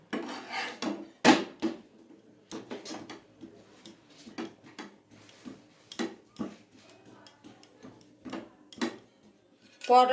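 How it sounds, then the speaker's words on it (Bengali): An aloo paratha dry-frying in a pan while it is flipped and turned: sparse knocks and scraping clatters of a spatula against the pan, spaced irregularly with quiet gaps between them. "ভালো করে উল্টে পাল্টে ভেজে নেব"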